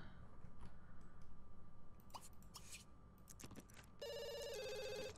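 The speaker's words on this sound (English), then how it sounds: "Phone." A telephone in The Sims 2 rings with a bright, repeating electronic tone that comes in near the end, clear over a faint game background with soft clicks.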